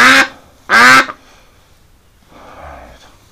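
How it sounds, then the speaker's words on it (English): A large duck gives two loud, close, raspy quacks with a short gap between them, followed by faint rustling. "What a gorgeous looking duck, though."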